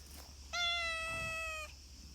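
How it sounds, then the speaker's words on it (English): A single drawn-out meow from one of many farm cats on a morning feeding round, close and clear over a quiet background hum. "There's quite a lot of cats at Vrouva, and they get very demanding in the morning."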